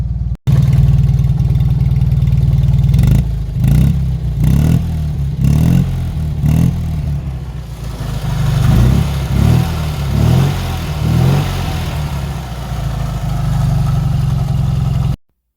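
A 1970 Fiat 500L engine revving in repeated bursts, loud and close, the small engine rising and falling in several quick blips between steadier idling stretches.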